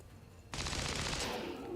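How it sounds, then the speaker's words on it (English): Soldiers in the video game XCOM 2 open fire after a quiet moment, a sudden loud burst of rapid gunshots that rings on for over a second before easing. "Let's just take some shots here."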